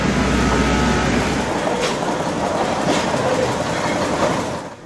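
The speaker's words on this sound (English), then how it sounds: "is the last one left in Cuba, still with its own engine. These Russian-built diesels not only make a lot of smoke" A Russian-built diesel rail car with its own engine rolls through Cuba near Ciego de Ávila, giving a steady loud rumble and clatter of wheels that stays constant, then eases off at the end.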